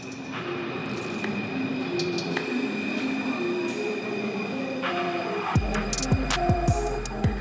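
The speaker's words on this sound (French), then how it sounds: "Ça, c'est le métro, ça. Ça, il y en a un qui a freiné brutalement." A Paris metro train on line 5 brakes sharply, its steady rumble giving way to loud, piercing wheel squeals and clacking toward the end, heard close and without talk.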